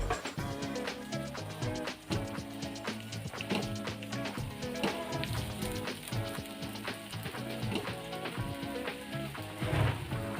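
Banana paniyaram batter fries in a pan with a steady, dense sizzle and crackle that carries on evenly throughout at a moderate level.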